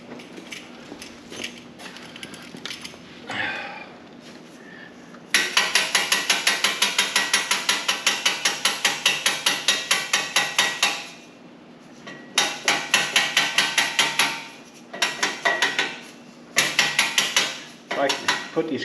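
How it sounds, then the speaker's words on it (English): Ratchet wrench cinching an exhaust clamp on a Harley Ultra Limited fishtail pipe, fast loud metallic clicking in repeated bursts with brief pauses between strokes, close up with no talking. "Let's get over here and get this clamp cinched down."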